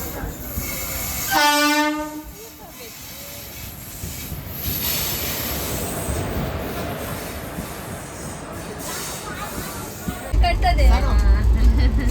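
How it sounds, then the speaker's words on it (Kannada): A loud train horn blares, then a rumbling train rolls into the station at Tirupati with rhythmic wheel clatter and squealing brakes, close by, with people talking around. "ಟ್ರೈನ್ ಬಂತು ಟ್ರೈನ್ ಬಂತು"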